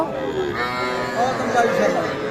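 Calves mooing at a crowded Bangladeshi cattle market, their overlapping bellows rising and falling for a couple of seconds against a dense background of murmuring voices and market bustle.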